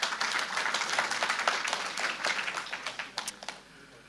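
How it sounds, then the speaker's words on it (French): Conference audience applauding its sponsors, a brisk burst of many hands clapping that stays lively for a few seconds and then thins out to scattered claps and fades. "Hop, a round of applause."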